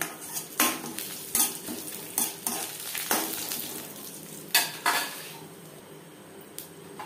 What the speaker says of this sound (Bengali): লঙ্কা ভেজে নেওয়ার পর দিয়ে দেব পাঁচফোড়ন, তেজপাতা।